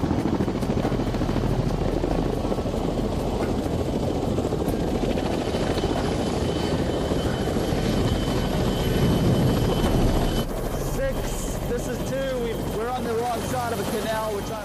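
A military helicopter roars loudly and steadily as it sets down in a dusty landing zone, its rotor wash constant throughout before the sound shifts and thins near the end.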